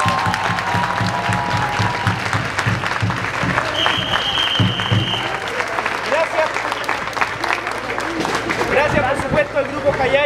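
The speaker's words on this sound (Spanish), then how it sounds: "Así que este aplauso es para toda la gente que nos ha acompañado en esta semana de Mandar la Fest." Loud festival crowd applause at Jallalla Mandala Fest in Talca, with continuous clapping and cheering mixed with crowd babble and voices throughout.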